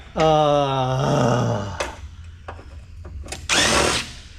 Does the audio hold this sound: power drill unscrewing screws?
yes